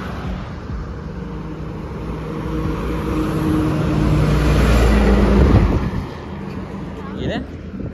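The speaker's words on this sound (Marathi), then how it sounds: "गाड्या बघा किती फास्ट जातात." Cars rush past on a road beside a roadside stop, a steady whoosh of passing traffic swelling to a loud peak midway before easing off, with people talking over it.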